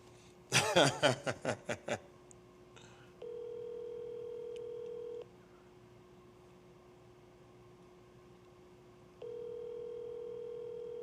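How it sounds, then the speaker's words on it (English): A telephone ringback tone on an unanswered call, heard as two long, steady tones with a pause between them after a brief burst of chuckling. The tones are clear and moderately loud against a quiet background. "Yeah, he ain't answer the phone."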